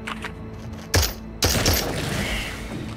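Gunfire in the VR shooter Into The Radius, aimed at unarmored enemies: two sharp, loud shots or short bursts about half a second apart, each followed by a lingering rumbling tail over a dull background hum.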